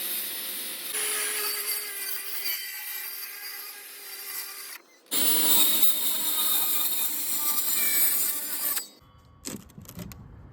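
Saw cutting OSB board for concrete forms, a loud close rasping whine in two long passes with a short pause between them, then ending in a few scattered knocks and scrapes.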